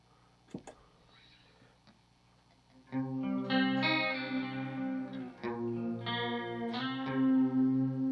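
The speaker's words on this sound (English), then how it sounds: "let's see what we've got out of the chorus pedal." Electric guitar through a Walrus Audio Fundamental Chorus pedal: a couple of faint plucks, then sustained strummed chords with a wide, shimmering chorus sweep and a ringing tail, fairly close and steady, with no talking.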